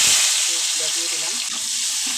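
Potatoes fry with onions in a hot pan, a loud continuous sizzle and hiss that carries through the whole stretch, with a few soft stirring knocks underneath.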